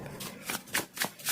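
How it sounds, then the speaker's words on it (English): Tarot cards being shuffled by hand, four quick riffling bursts in an even rhythm, close and clear with no talking. "We will shuffle 3 times."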